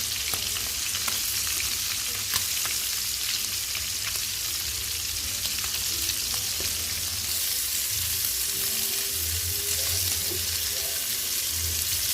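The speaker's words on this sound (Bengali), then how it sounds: "মাছগুলো ভাজা হয়ে গেলে নামিয়ে নিব" Spiced jatka fish frying in hot oil in a pan, a steady dense sizzle with crackling pops running throughout at a constant level, close and fairly loud, with no talk over it.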